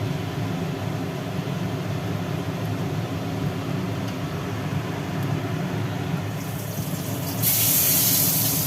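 Mung dal boils in a pot with a continuous, even bubbling hiss and steam, then a louder, brighter spray-like hiss rises near the end.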